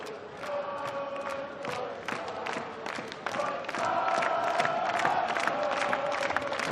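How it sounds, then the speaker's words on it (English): An indoor hockey crowd in Leipzig cheers during a Germany versus Switzerland men's indoor World Cup match, a continuous roar with shouts, whistles and claps that rises in the second half. "The crowd enjoying what they're seeing here in Leipzig"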